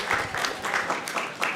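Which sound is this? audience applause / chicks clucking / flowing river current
audience applause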